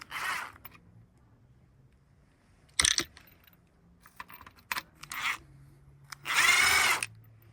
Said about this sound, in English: Now I'll just take my screw gun and undo these screws.